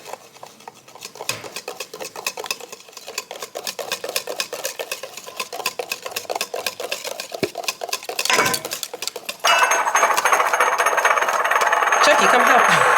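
Pumpkin spice cupcake batter being mixed in a bowl, with a steady clatter and whir running throughout and growing louder and denser in the final few seconds, while people talk nearby.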